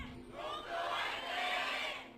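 A large esports arena crowd at a League of Legends match between Samsung Galaxy and Longzhu Gaming roars in a swelling, sustained cheer, distant and fairly faint, rising toward the middle.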